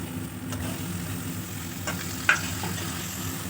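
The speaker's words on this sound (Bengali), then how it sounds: "এবার এর মধ্যে আমি দিয়ে দেব টমেটোর কুচি" Chopped tomato fries with garlic paste in oil, a steady close sizzle with light stirring clicks and one sharp scrape partway through, no voices.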